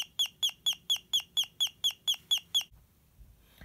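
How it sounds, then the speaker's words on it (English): An Elenco electronic kit circuit gives off about ten evenly spaced bright chirps, like a bird or cricket, rapid and regular at close range, then stops into faint hum. "Now it sounds more like a bird chirping or perhaps even a cricket."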